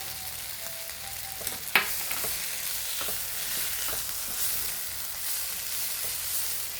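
Onions and tomatoes sizzle steadily in a frying pan while a utensil stirs them, with one sharp scrape or clink early on and faint stirring ticks over the constant hiss.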